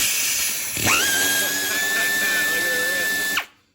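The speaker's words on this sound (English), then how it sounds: "This is actually the world's smallest air ratchet." A tiny air ratchet works on small 10mm bolts of a Cub Cadet GTX 1054 mower, a single sustained whirring, whining burst of about two and a half seconds that starts and stops abruptly, close and fairly loud.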